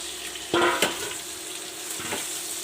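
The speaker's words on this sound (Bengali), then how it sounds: "এবার আলুটা ভেজে নিচ্ছি।" Potatoes frying in a pan with onion, a continuous crackling sizzle broken by a couple of sharp metallic scrapes and knocks from a stirring spoon, close by with no talk.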